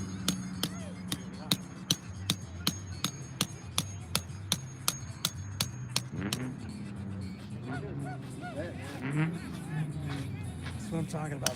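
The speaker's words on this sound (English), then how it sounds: "I got a hammer if you want to use it." Steady hammer blows ring out in a fast, even series of about twenty sharp metallic strikes over six seconds, then stop as voices and background talk continue outdoors.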